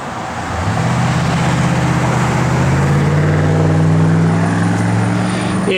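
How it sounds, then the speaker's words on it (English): A 1973 Dodge Challenger with a 440 V8 runs in a loud, steady rumble after starting, its low engine drone close and continuous without talk. "when we fire this thing up, man, it has got a good sounding 440 in it"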